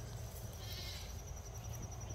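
Goats on a small hobby farm bleat faintly and at a distance through a steady, quiet outdoor background, with no clear single close call standing out.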